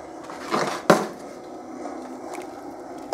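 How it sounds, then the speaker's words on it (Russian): Shrimp tumble into boiling water in a metal rice cooker pot with a quick clatter and one sharp clunk, then a low bubbling hum. "в кипящую воду забрасываем в рисоварочку"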